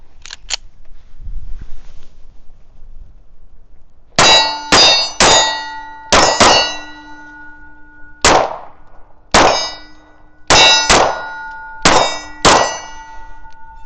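Kimber 2K11 Pro Comp pistol fired at an IDPA match, each shot ringing off steel targets under a roof: about ten loud sharp cracks with metallic ringing tails, some in quick pairs, after a brief faint voice.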